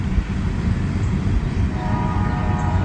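A freight train rolls along a Kentucky rail line, a steady low rumble of cars with a faint sustained horn-like tone rising late, fairly near and alone without voices.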